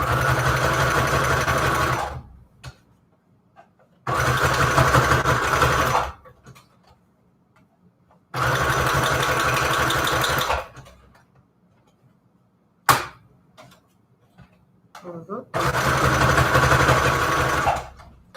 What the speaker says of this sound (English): That is several layers of cardstock it's sewing through.